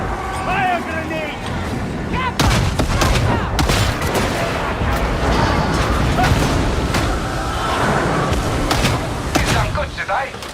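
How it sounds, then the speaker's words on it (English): Warhammer 40K battle with a grenade launcher firing and explosions bursting in rapid succession, dense booming blasts layered over shouting voices and constant battle noise. "Fire grenade!"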